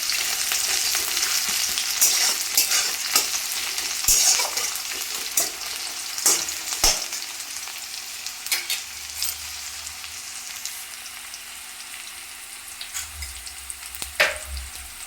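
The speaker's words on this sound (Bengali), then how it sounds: "পেঁয়াজটা হালকা লাল করে ভেজে নেব।" Chopped onion frying in a pan while being stirred, a continuous close sizzle broken by repeated sharp scrapes and clinks of a spatula against the pan.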